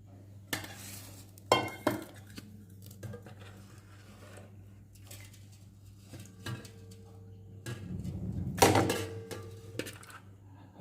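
Freshly hand-churned butter rinsed in one or two changes of water, giving close, intermittent sloshing and light clinks of a vessel, with a few louder splashy bursts and quiet pauses between.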